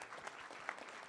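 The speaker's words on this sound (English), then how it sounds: "can we all just give a big round of applause for Tom for doing this" A conference audience at a fireside-chat summit breaks into a round of applause, a brief steady patter of many hands clapping at moderate distance.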